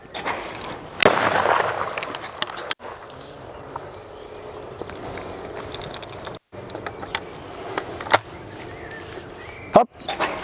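Several sharp, loud over-and-under shotgun blasts ring out at irregular intervals, each a sudden blast standing out against quiet outdoor background noise.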